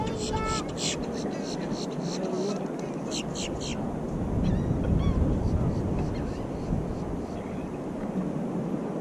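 A bird calls in a quick burst of honking cries near the start, fainter calls following, over steady wind and surf noise at the end of an ocean fishing pier at Surf City.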